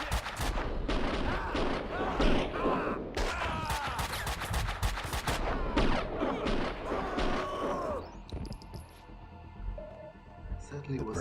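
Rapid gunshots and bursts of automatic fire in the video game Max Payne 2: The Fall of Max Payne, set in a hospital, crackling densely for several seconds under overlapping voices before thinning to scattered shots.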